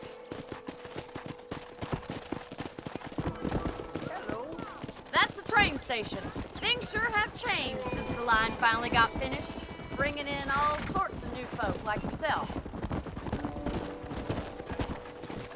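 Horse hooves clip-clopping in Red Dead Redemption, a steady rhythmic walk near a train station, heard under a voice chatting over the hoofbeats, with an occasional whinny.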